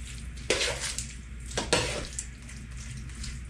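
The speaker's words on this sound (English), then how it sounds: "are going to give it a stir." A shrimp and asparagus casserole mixture is stirred in a pan, with two distinct scraping strokes followed by softer shuffling and a faint sizzle, heard up close with no talking.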